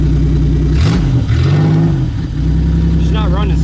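An old Buick Regal derby car engine runs roughly at a steady low idle, close and loud, with a brief blip of revving partway through and people talking over it.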